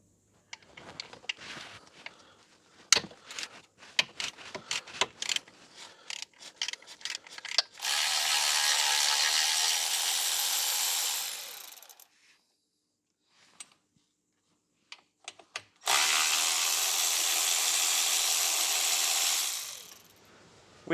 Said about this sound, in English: we just got to undo the nut at the top and the nut down the bottom